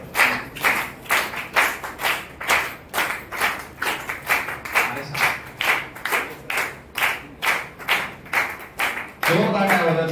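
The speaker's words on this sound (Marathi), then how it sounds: "टाळ्या वाजवत राहू द्या" Audience at a foundation meeting in Panvel claps in a steady, rhythmic unison beat, loud and close, with a voice starting to speak near the end.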